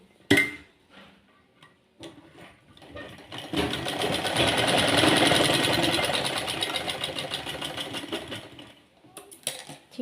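A sewing machine stitches a farshi salwar seam, its motor running in one steady, loud burst through the middle, with a few short clicks and handling sounds before and after.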